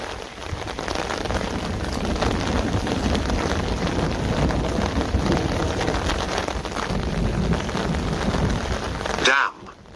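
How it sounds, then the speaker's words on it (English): Heavy rain pours down in a steady, loud roar with dense pattering on surfaces and some wind buffeting, then cuts off abruptly near the end. "It is raining? A lot."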